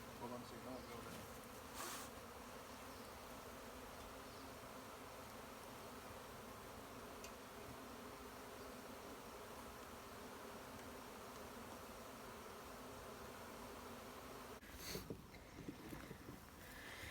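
A swarm of bees buzzes steadily in a dense, continuous hum close by at low volume, with a couple of brief louder bumps and clatters near the start and end.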